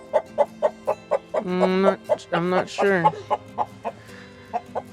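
Chickens cluck close by in a steady rhythm of short, repeated notes, broken by a few longer, louder drawn-out squawks in the middle, while a person speaks briefly.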